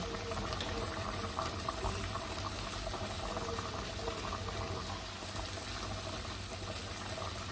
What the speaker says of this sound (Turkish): Oh, ana kaynıyor.